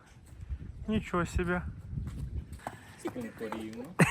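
Horse hooves clop along slowly outdoors, a few scattered steps, while a person speaks briefly and other voices are heard nearby.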